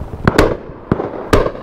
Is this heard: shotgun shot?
yes